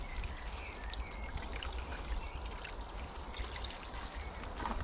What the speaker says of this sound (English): I'm going to give them a drink of water on the top.